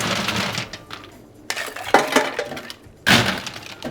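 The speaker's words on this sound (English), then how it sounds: "Now we put ice inside our shaker." Ice cubes tumbling into a metal cocktail shaker for a bourbon Paper Plane, a few loud, close clattering bursts of clinking cubes separated by short pauses, with no talking.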